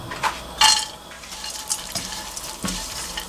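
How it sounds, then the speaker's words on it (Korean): Dried anchovies stir-fried in cooking oil in a pan, a close crackling sizzle under repeated scraping strokes and a few sharp clinks of utensil against metal, with no voices. "먼저 멸치를 볶아야 되는데요"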